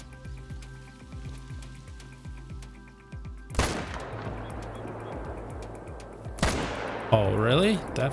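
A single sharp rifle shot aimed at an alligator in a Mississippi Acres hunting game, followed by a second loud crack a few seconds later, with a rhythmic ticking ambience and people talking over it.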